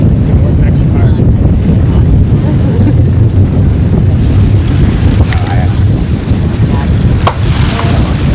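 Strong wind of around 40 mph roars over the microphone aboard the schooner Eleanor at sea off Kennebunkport, Maine, a loud continuous buffeting rush mixed with water and hull noise and no clear voices.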